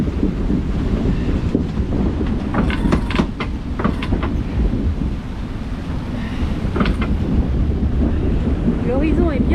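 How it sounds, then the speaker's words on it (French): Strong wind of about 25 knots roars across a sailboat at sea off Guadeloupe, a loud continuous buffeting rush mixed with wave wash, with brief voices talking in the background. "Là on est à 25 nœuds de vent."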